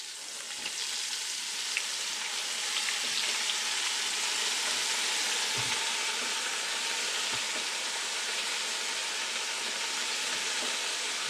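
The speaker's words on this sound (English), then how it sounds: "then we'll put it in the flour, and then we'll deep fry these" Floured copycat KFC chicken pieces, thawed first, deep frying in hot oil with a steady, loud, unbroken sizzle and crackle that runs the whole time without any talk.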